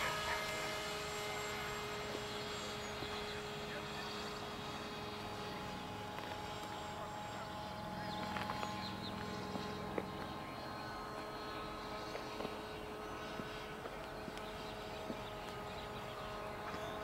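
A Bixler quadplane VTOL RC aircraft with its electric motors running in flight gives a steady, faint whirring drone that holds evenly throughout, heard from a distance with no voices.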